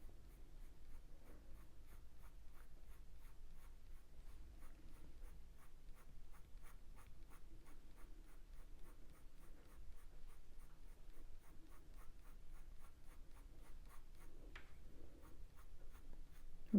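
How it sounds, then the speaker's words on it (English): Pencil sweeping across paper in long, even strokes while drawing a squirrel's fur, a soft, steady scratching that repeats rhythmically for the whole stretch with no voices. "so I can do longer pencil marks. All sweeping across."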